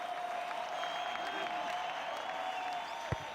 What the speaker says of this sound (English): The crowd cries ball, and they get their wish.